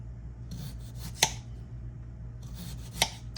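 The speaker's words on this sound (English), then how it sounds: "Cut them in slices." A knife slices through a large oblong potato in a kitchen, giving two crisp, faint cuts about two seconds apart over a low background hum.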